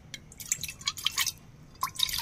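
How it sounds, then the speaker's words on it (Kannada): A little water poured into a small pot placed inside a larger vessel, heard as short splashes and trickling drips over about two seconds, close by and fairly clear. "ಇದನ್ನ ಕಡಿ ತೊಗೊಂಡು ಇದ್ರಾಗ ಸ್ವಲ್ಪ ನೀರು ಹಾಕೊಳ್ಳೋಣ್ರಿ."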